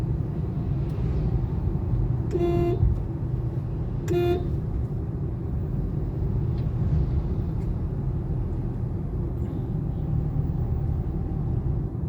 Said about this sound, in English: Horn కొట్టు.